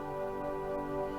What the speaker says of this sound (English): So strings and tremulant sound like this.